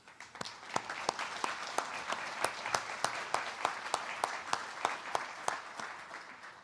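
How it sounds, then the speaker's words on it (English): An audience applauds Iraqi Foreign Minister Mohammed al-Hakim at a ministerial coalition meeting, a steady round of clapping with sharp individual claps standing out, moderately distant and without talk. "Let's give him a round of applause."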